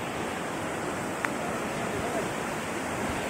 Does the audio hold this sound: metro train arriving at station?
no